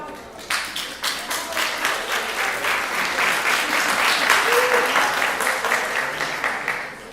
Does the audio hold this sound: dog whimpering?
no